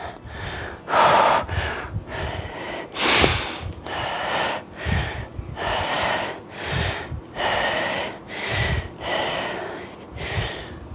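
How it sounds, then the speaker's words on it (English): Heavy, rhythmic breathing right after a set of upper-body dumbbell exercises: about a dozen loud, close breaths over eleven seconds, each a broadband gasp or snort with no speech. "Sorry for the heavy breathing"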